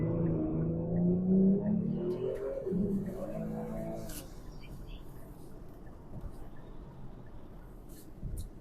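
A Kia Stinger GT2 launches in second gear with boost built up, its engine droning and rising in pitch, then dropping away into quieter road noise, with speech present during the run.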